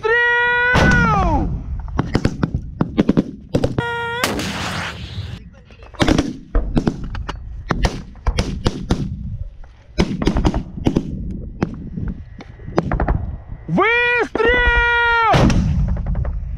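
Heavy gunfire rings out during a motorized infantry tactical exercise of the Baltic Fleet, with loud repeated shots and bursts, some sharp and close, and others booming, interleaved with shouted commands and a sustained tonal whine.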